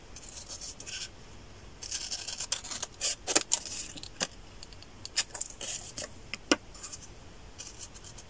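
Scissors snip out paper ephemera for a handmade stationery set, giving close, quiet, irregular clicks and crisp paper rustles that come in small clusters, with no voices.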